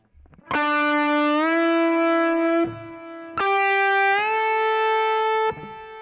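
An overdriven electric guitar plays two sustained notes, each bent upward smoothly in time, loud and clear with no voices.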